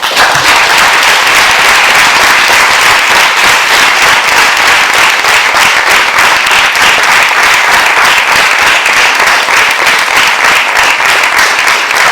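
An audience applauds after a testimony talk, loud and sustained clapping from many hands filling the room in a dense, even roar that continues without letup.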